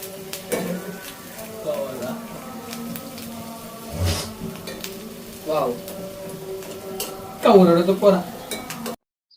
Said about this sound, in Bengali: এখন করলাগুলোকে আমি ভেজে নিচ্ছি